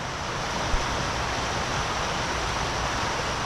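The River Okement running over rocks on the edge of Dartmoor in autumn, a steady, dense rushing wash of water close by, unbroken and without talk.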